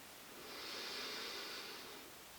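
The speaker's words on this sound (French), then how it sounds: "Encore une fois, inspire." A slow, deep inhale through the nose during a yoga belly-breathing exercise, a soft airy rush swelling and fading over about two seconds, close and faint.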